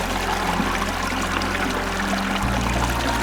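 Water is poured in a steady, continuous stream that gurgles up close, and its pitch shifts partway through as the pouring carries on. No one talks.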